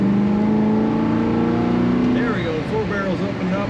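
A 1970 Chevrolet Chevelle SS 396 muscle car with its big-block engine roaring steadily close up as it accelerates, the note shifting partway through.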